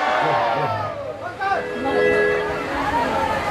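Festival crowd at a Janmashtami celebration in Duhabi raising a loud devotional chant to Krishna, voices swelling together in a dense, continuous roar with applause-like noise underneath, close and filling the space.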